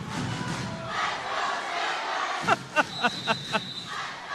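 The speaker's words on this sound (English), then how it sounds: "Sandite crowd urging their wrestler on." A high school wrestling crowd from Sand Springs cheers and shouts their wrestler on in a gym, a loud continuous roar with several rhythmic rising yells toward the end.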